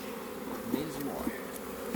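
A low, even hum of honey bees at a hive being fitted with a brand new super, with faint knocks and no voices.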